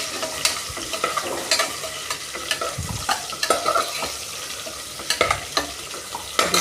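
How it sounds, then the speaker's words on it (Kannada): Curry leaves and a bay leaf sizzling in a pan of hot oil with spices, a quiet continuous fry broken by scattered crackles and a few scraping stirs, no talking. "ಕರಿಬೇವು ಹಾಕ್ತಾಯಿದ್ದೀನಿ. ಆಮೇಲೆ ಪಲಾವ್ ಎಲೆ ಹಾಕ್ತಾಯಿದ್ದೀನಿ."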